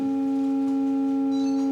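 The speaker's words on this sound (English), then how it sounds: "The sine tones that could be used to resynthesize that complex tone." Several steady sine tones sound together as a sustained chord of pure partials, the kind used to resynthesize a complex tone, holding evenly throughout with a faint high shimmer near the end.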